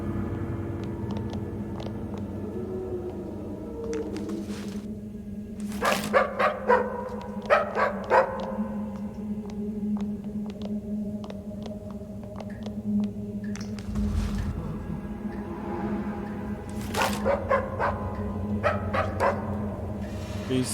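Barks from a headless dog in the Stygian horror game come in scattered clusters of sharp yaps and bow-wows over a steady low rumble, moderately loud and near, with no talking.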